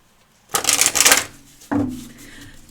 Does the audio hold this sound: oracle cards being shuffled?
yes